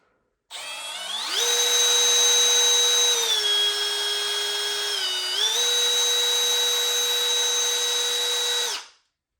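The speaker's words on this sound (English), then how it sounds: "I'm just gonna clear that hole out by holding the drill and working up and down." A power drill whines steadily at high speed for several seconds, clearing out a scupper hole in a Native Watercraft Titan X 12.5 kayak, its pitch dipping briefly under load before rising again, loud and close.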